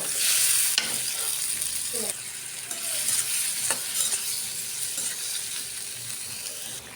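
Tomato with chili powder, coriander powder and salt fries in a pan, a close steady sizzle broken by a few scraping stirs of a spatula.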